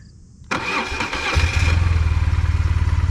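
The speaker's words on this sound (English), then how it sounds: "But if you start your bike" A BMW motorcycle engine cranks and fires, then settles into a loud, close, steady pulsing idle.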